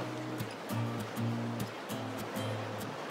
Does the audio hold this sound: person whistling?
no